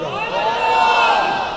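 Crowd of young people at a devotional music gathering shouting together in response, a dense, loud, sustained roar of many voices lasting about a second and a half.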